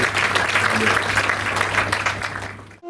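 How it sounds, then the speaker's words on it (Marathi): An audience at a state-level poetry and literary conference applauds steadily, dense clapping filling the whole stretch before it cuts off abruptly at the end. "त्याच्यासाठी एकदा जोरदार टाळ्या वाजवा"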